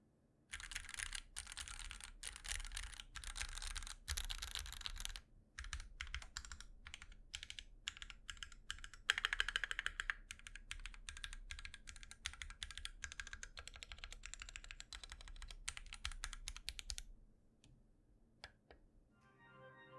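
Stock, factory-assembled Keychron Q1 mechanical keyboard typed on steadily, dense rapid clacks running close and loud for about seventeen seconds before trailing off into a few scattered keystrokes near the end.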